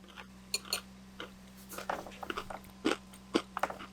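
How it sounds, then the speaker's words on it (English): Crisp crunching bites of maple granola close up, a dozen or so irregular crackly crunches against a quiet background with a faint steady hum. "See if we can hear the crunch."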